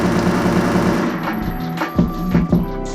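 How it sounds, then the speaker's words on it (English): Gunfire from a first person shooter game built on a C++ OpenGL engine, a quick run of sharp shots in rapid succession over a continuous mechanical background drone, fairly loud and with no voices. "This is the gunshot audio."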